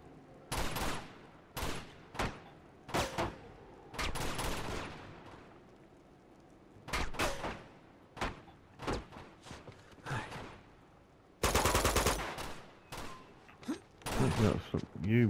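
Gunfire aimed at the player in the video game Uncharted 2: sharp, loud shots in separate bursts and single cracks, spread irregularly over the span and closing with a longer dense volley, with brief gaps of near silence between them.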